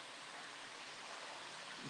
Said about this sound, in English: I'm actually right next to a waterfall.